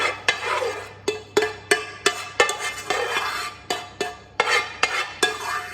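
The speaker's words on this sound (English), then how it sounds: "Then the rest of my meat sauce is going in there now." Meat sauce for a lasagne is scraped from a pan into the dish, a run of a dozen or so rhythmic utensil scrapes and clinks about half a second apart, close and fairly loud, with no speech.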